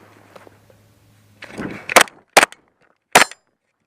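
Three sharp, loud gunshots from a Glock 29SF pistol fired at a steel target, spaced about half a second and a second apart, following a brief shuffling handling noise.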